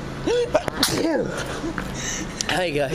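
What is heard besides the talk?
sneeze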